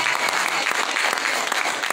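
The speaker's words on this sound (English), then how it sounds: "Come on and give God a hand clap." Continuous applause from a church congregation, many hands clapping steadily throughout.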